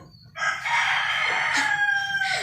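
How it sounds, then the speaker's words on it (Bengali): A young chicken tries to crow, giving one drawn-out, scratchy, uneven cock-a-doodle call that holds steady for about two seconds, loud and close with no talking. "আমার নতুন মুরগি নতুন নতুন ডাক শিখছে শুরু করছে"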